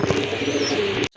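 Silver Gorra pigeons coo in a steady low murmur at close range, a continuous throaty drone with no voices, cutting off abruptly at the end.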